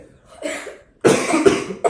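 Two coughs from a person during a school-level social science quiz: a short muffled one first, then a louder, harsher burst followed by a brief third catch, all close and without speech.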